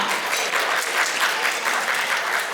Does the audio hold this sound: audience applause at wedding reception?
yes